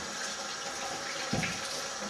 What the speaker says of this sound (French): Alors, je lave mes légumes.